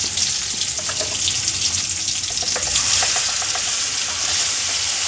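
Mustard and poppy seed paste sizzling and spattering in a pan after well-fried tomatoes, a steady loud hiss with scattered crackles and stirring scrapes, no talking.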